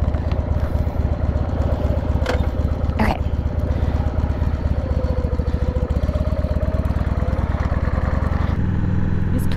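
A Harley Sportster 883 motorcycle rides along a rustic road, its engine drone loud, close and continuous throughout, with wind buffeting over it.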